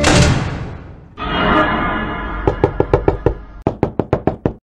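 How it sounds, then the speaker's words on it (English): Knocking on a door in the horror game Weird Strict Dad comes as two sharp series of about six raps each, loud and close, following a swelling ambient drone. "I wonder who's knocking outside again."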